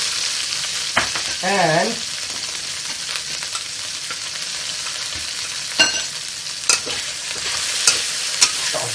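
Broccoli stirred and frying in a pan while cooking chicken and broccoli in oyster sauce, with a steady sizzle throughout and a few sharp scrapes and clatters of the utensil against the pan.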